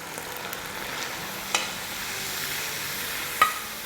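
Spiced biryani masala with turmeric and salt fries and is stirred in oil in a pan, giving a soft, steady sizzle broken by a couple of light scraping knocks from the spoon; quiet, with no talking.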